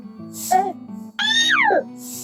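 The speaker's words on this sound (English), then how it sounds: "Hello, little cat." Cat meowing twice outdoors during a stroll in the woods, the second meow longer and drawn out, close and clear over a steady background hum.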